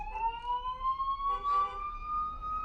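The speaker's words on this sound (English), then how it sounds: "You ever wonder why they make those sounds? Sirens?" A steady siren tone slowly rising in pitch, moderately loud and continuous, with faint background noise throughout.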